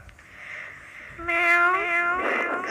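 A human voice imitates a cat's meow: a soft nasal lead-in followed by a clear, rising-then-falling drawn-out meow, close and fairly loud.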